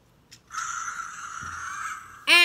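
Fingerlings Velociraptor "Stealth" electronic toy gives off a sustained synthetic squawking call for nearly two seconds, fairly close and moderately loud, then a sharper burst of chirpy electronic tones right at the end.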